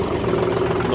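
A John Deere 5310 GearPro 55 HP tractor engine runs steadily, a loud, close, continuous diesel rumble with an even low throb.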